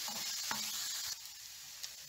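Food sautés in a pan and then small pieces of fish go in for a savory briouat filling, making a soft, steady sizzling hiss that eases off after about a second.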